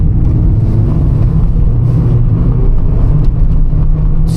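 Toyota Yaris with a 1.3 engine held at high revs while the tyres spin and drag, a loud, steady, close engine roar with no talking over it.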